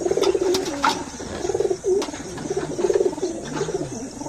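Several young pigeons coo close by in a loft in repeated rolling phrases, overlapping one another almost continuously, with light rustling in between.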